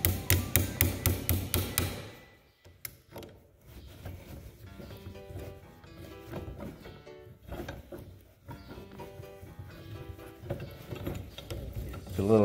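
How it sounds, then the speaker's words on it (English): Metal pins are worked out of a rusty Massey Ferguson MF 165 tractor brake linkage: a burst of rapid knocks, then scattered small metallic clicks, scrapes and rattles at close range. "I'll take this cotter pin out, this clevis pin here."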